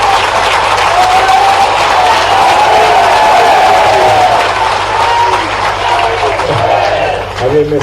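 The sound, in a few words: audience applause at a conference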